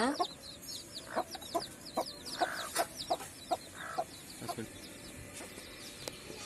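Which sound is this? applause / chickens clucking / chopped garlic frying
chickens clucking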